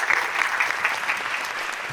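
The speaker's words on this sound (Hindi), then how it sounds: "एक दफा तालियां होनी चाहिए यार उन लोगों।" An audience at a comedy show applauds, a dense, steady clapping that fills the whole stretch at a fairly loud, even level with no voices on top.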